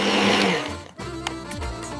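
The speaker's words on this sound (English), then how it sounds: "Blend everything until smooth." A blender whirs through Greek yogurt, mint, coriander leaves and lemon juice for a smooth dip, a loud motor drone that drops briefly near the middle and then resumes at a steadier pitch.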